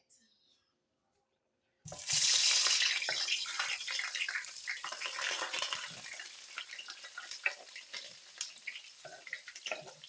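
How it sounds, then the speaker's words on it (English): Seasonings poured into hot oil in a pot burst into a loud sizzle after a short silence, then crackle on steadily, fading slightly over several seconds. "Now that it's hot, I am going to go ahead and pour my seasonings in it."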